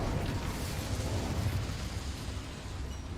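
A casting of the Incendio fire spell in Hogwarts Legacy releases a dense, roaring whoosh of flame. It is broad and rumbling, stays fairly steady across the whole span, and no one speaks over it.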